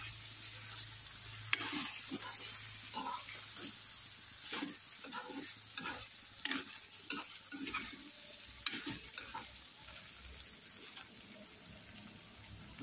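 Vegetable curry is stirred as it fries in a pan, giving a soft steady sizzle broken by repeated scraping strokes of a spoon, fairly quiet and close, with a little faint talk.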